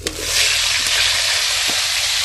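Cauliflower frying in hot oil for a cauliflower biryani, a loud, steady broadband sizzle that swells early and holds, with a few faint clinks from the pan.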